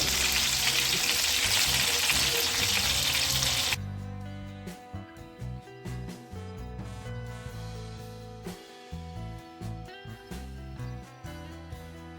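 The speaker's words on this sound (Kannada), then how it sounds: "ಚೆನ್ನಾಗಿ ಫ್ರೈ ಆಗಿದೆ. ನಾವೀಗ ತೆಗೆದುಕೊಳ್ಳೋಣ. ಟೋಸ್ಟಾಗಿ ಫ್ರೈ ಆಗಿದೆ." Cabbage leaves tawa-fry until toasted in a pan, making a loud dense sizzle that cuts off abruptly after about four seconds, followed by music.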